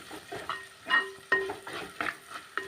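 Meat masala being stirred into a koorka (Chinese potato) curry in a pan, with several distinct scraping strokes of a spoon against the pan over a soft sizzle, close and fairly quiet.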